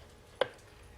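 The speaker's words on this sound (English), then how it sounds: "I'm going to take my hobby knife and trim a little bit of this off here right on this edge" A hobby knife trims an overhanging plastic edge near the deflector on a 1/350 scale Polar Lights Enterprise model kit, making a single short, sharp snip or click at close range against a quiet background.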